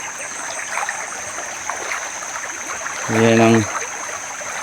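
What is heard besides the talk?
flowing creek water in the fields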